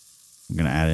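Turkey chili being stirred in a pot, a short burst of thick, wet sizzling and scraping that starts abruptly after a near-silent moment.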